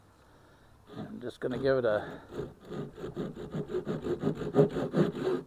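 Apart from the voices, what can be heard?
hand saw trimming the bottom of a wooden walking stick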